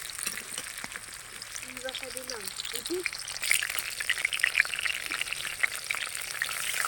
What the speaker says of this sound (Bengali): প্রথমে আমরা একটু পেঁয়াজ ভেজে নেব